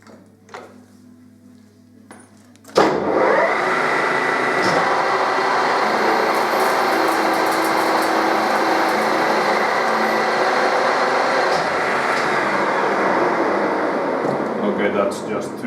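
A milling machine cuts metal at a three-quarter millimetre depth, its loud steady grinding roar starting abruptly after a quiet opening and holding constant to the end.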